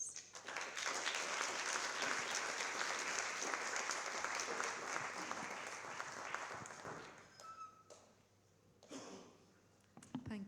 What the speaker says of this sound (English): Meanwhile, a fantastic round of applause for our panelists.